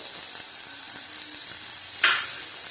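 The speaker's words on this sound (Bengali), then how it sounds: "রসুন কুচি দিলাম আট একদম কমিয়ে নেব" Chopped garlic sizzling in oil in a frying pan on low heat, a steady close hiss with a brief louder flare near the end, no voices.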